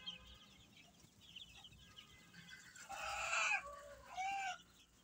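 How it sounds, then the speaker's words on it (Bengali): Thirteen-day-old chicken chicks on a small home farm chirp and peep softly in short bursts, then grow louder in a busier flurry of calls toward the end. "দেখো আমার মুরগির বাচ্চাগুলি, আজকে এদের বয়স 13 দিন।"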